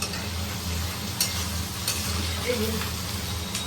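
Egg chilli masala frying in a pan with a steady sizzle, a few short scrapes of the spoon breaking through as it is stirred; continuous and moderately close, with no talk.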